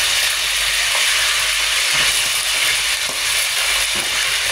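Chicken breast frying in hot oil that spits and splatters, a loud, steady broadband sizzle with scattered crackles and pops running throughout, close up and alone.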